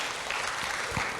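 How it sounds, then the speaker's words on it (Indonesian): Brief burst of audience applause, a dense patter of clapping hands from a crowd, fairly steady through the short moment. "Makasih Mbak Firly, tepuk tangan dulu untuk Mbak Firly."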